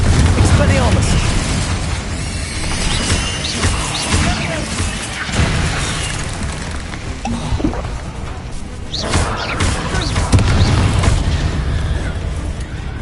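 Explosive spells cast in Hogwarts Legacy burst in repeated booms and crashes through a dense, busy stretch of combat noise, with a voice calling out spell names over the blasts.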